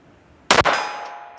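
A pistol round striking a steel target at 50 yards gives one sharp metallic clang that rings and fades for about a second, with no talk.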